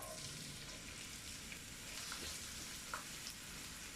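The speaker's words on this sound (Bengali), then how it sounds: "তেলটা গরম হলে আমি এতে দিয়ে দেব পেঁয়াজ কুচি" Chopped onion frying in hot oil in a frying pan, a steady soft sizzle with occasional small pops and crackles, close and quiet with no talking.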